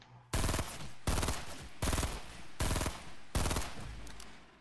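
Bursts of automatic gunfire in the video game Fortnite, four loud rapid-fire volleys of roughly half a second each, separated by brief pauses, close and alone with no talk.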